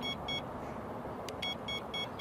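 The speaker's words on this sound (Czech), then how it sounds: "vždycky nám hlásič pípne tolikrát, kolikrát, jak dlouhý budeme chtít krok" A Mivardi Combo M1350 fishing bite alarm beeps in short electronic pulses, about six evenly spaced tones in a row, close and clear over faint background hiss.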